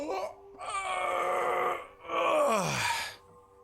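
A person gives a long, drawn-out groaning yawn up close, its voiced moan stretching and falling in pitch across two breaths before trailing off.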